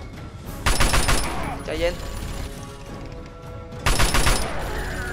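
A super mutant fires a minigun in Fallout 3, in two long, loud bursts of rapid gunfire separated by a quieter stretch, with a voice talking in between.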